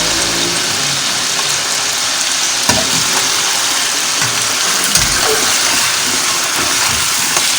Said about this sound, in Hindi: फिर इसको भूनना है थोड़ा।